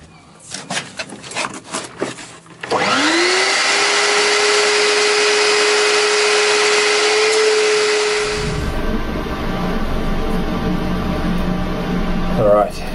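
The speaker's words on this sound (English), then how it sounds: "so I'll just put the vacuum on it" A vacuum cleaner switched on during boat hull work: a brief clatter, then the motor spins up with a rising whine into a loud steady roar close by, its tone shifting partway through as suction changes.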